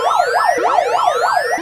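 An emergency siren sound effect wails loudly and close, with rapid rising-and-falling sweeps overlapping in a repeating alarm pattern.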